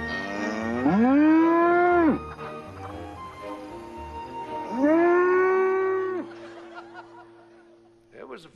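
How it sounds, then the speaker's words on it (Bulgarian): A cow on a rooftop lets out two long, loud moos, one after another with a pause between, and a smaller bovine call follows near the end over a low background hum. "Мислех кравите за необразовани, но тук някой бе научил тази да се качва на покрива."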